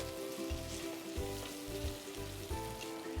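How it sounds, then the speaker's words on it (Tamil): Tomatoes sautéing in oil in a pan with salt added, a steady close sizzle and crackle broken by rhythmic scraping strokes of a spatula, no voices. "இந்த தக்காளி நல்லா வதங்கி அந்த எண்ணெய் விடுற வரைக்கும் நல்லா வதக்கிடுவோம்."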